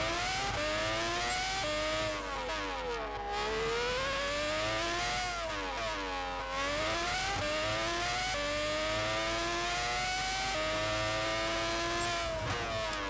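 Race car engine in the Gran Turismo 6 video game at the Goodwood Festival of Speed, whining loudly and continuously as it climbs through gears, dipping briefly on shifts and braking before revving up again, with no talk over it.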